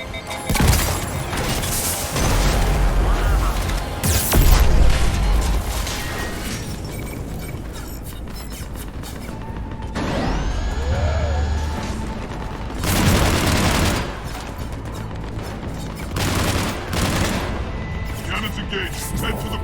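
Cannons firing in Mass Effect Legendary Edition during the Siege of Omega, with repeated loud booming blasts and bursts spaced across the scene, mixed with game sound effects and talk.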